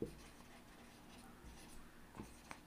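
Pen writing on paper while accounting figures are entered into a statement of affairs, a faint, soft scratching that runs steadily with a few light taps near the end.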